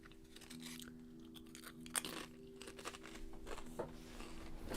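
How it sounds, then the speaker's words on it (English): Someone crunches on blue chips with several sharp, brittle bites spaced irregularly over a few seconds, fairly faint and close, above a steady electrical hum. "I can hear you and you're crunching"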